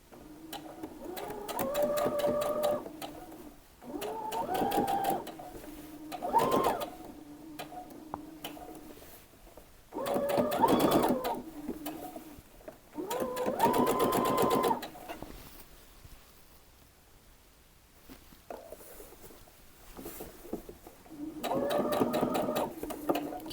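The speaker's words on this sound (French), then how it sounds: "J'utilise mon morceau de tissu pour démarrer ma couture." Domestic sewing machine stitching a piece of fabric at the start of a seam, running in several bursts of steady rapid mechanical chatter separated by short pauses, up close and alone with no talk.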